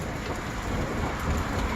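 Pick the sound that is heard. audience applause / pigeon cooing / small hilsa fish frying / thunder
thunder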